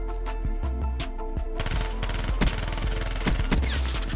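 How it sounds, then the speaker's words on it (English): Rapid bursts of submachine gun fire in Call of Duty Black Ops 3, loud and close, with a sustained rattling stream of shots joined by heavier cracks partway through. "That's a submachine gun."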